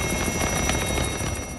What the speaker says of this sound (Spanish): helicópteros y aviones tripulados y no tripulados de la Armada